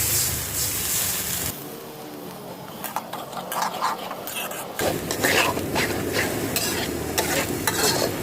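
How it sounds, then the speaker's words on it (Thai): Oyster sauce, sugar and water stirred together in a hot pan, with bubbling sizzle and scraping strokes of a utensil, loud and close, the sizzle dropping briefly before surging again. "จากนั้นคนเครื่องปรุงให้มันเข้ากันนะคะ"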